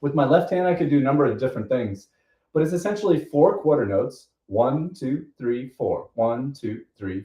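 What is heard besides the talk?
None of the usual background noises is heard.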